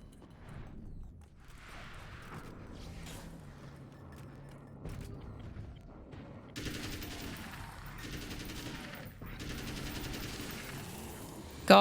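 Bursts of rapid gunfire sound in the video game Alan Wake: American Nightmare. Sparse mid-range shots come first, followed by two dense, bright volleys in the second half, with no clear voices over them.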